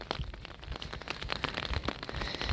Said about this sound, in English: This rain's going to be so good for the garden